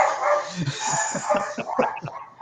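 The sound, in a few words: dogs barking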